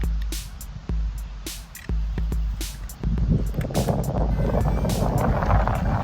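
DJI Mini 2 drone on the ground outdoors: a few sharp clicks, then its motors spin up into a steady, fairly loud whir that continues to the end, with no talk.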